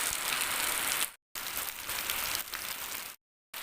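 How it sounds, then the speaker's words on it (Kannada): Rain pours down in a village farmyard as an even, close, broadband hiss. It cuts out abruptly twice before resuming, and no one speaks over it. "ಈಗ ಬರಬೇಕಾ ಮಳೆ ನಾವು ಕೆಲಸ ಸ್ಟಾರ್ಟ್ ಮಾಡುವಾಗ"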